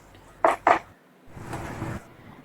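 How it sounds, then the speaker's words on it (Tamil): A metal spoon scraping and clinking against a kadai while rice and masala are stirred: two sharp scrapes close together, then a softer, longer stir. "அரிசியில் வந்து மசாலா ஃபுல்லாக ஒட்டுற மாதிரி மிக்ஸ் பண்ணிக்கோங்க."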